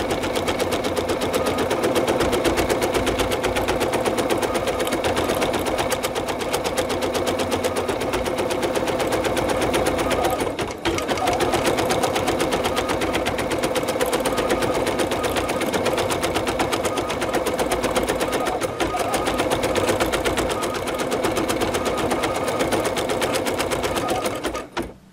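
An embroidery machine runs stabilization stitch lines for a cutwork coaster, a loud, continuous rapid needle clatter close by, pausing briefly midway before resuming at the same steady pace.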